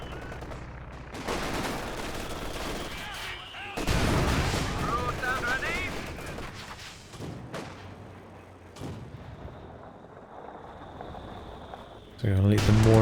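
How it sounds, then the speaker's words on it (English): Mortar shelling in the Company of Heroes 2 war game, a series of booming shell impacts and explosive crashes with gunfire crackle between them, loud and irregular, with commentary voices talking over the action. "So we're going to let the mortar pit soften up the units here."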